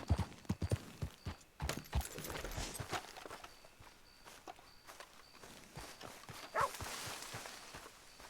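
Horse hooves clip-clopping at a walk in Red Dead Redemption 2 while the rider can't stop the horse, an irregular series of close thuds over game ambience with faint background tones.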